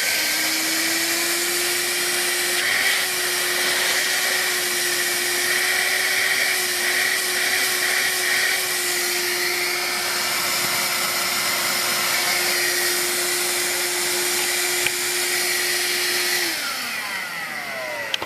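A Vax Air Cordless Lift Duo upright vacuum runs steadily in boost mode, giving a loud continuous whine and a sustained tone for about sixteen seconds before spinning down near the end.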